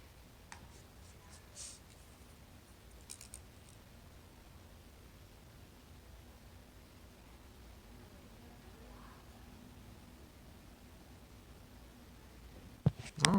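A pen moves across paper as a math answer is written out by hand. The scratching is faint, steady and close, with a few soft ticks, and a brief louder bump comes at the end.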